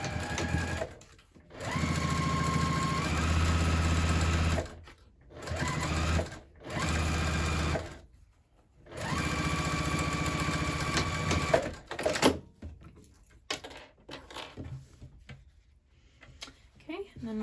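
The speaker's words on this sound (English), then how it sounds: "we're just gonna go ahead and sew at a 1/2 inch seam allowance" A sewing machine stitching a half-inch seam on a handbag runs in several sustained bursts with short pauses between, a steady humming whir that rises in pitch partway through, followed by quieter handling clicks.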